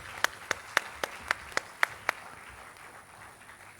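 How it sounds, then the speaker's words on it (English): Sparse hand claps sound at a graduation ceremony, about eight sharp, evenly spaced claps ringing out faintly in a large room before fading into quiet background. "Shall we all give the presentation party a good round of applause?"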